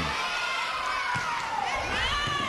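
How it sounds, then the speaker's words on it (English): Fans cheer for Liberty County at a high school volleyball final in a gym, a sustained roar of crowd shouts and high voices filling the hall, with rising calls near the end. "See some of the crowd here for Liberty County. They finally have something to cheer about."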